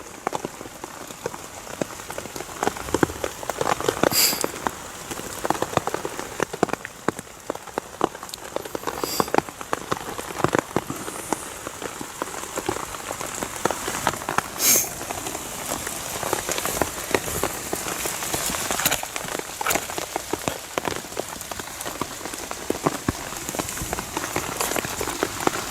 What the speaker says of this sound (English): It's been raining all night, it has, non-stop.